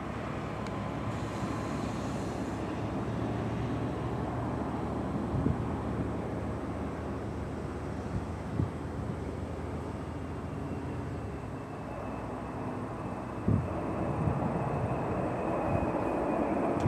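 A jet airplane rumbles steadily at Chicago O'Hare International Airport, a continuous low engine drone heard from a distance with no voices.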